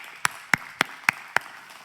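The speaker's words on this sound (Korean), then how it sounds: "두 분께 큰 박수를 한번 보내주시기 바랍니다." Five sharp, evenly spaced hand claps in a church service after a wedding blessing, distinct and separate against a quiet room, with no talking.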